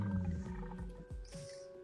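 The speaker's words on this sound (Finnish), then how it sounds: "Leijoni!" A lion roars in a video game, a loud, close, rumbling roar swelling over about two seconds amid game sounds.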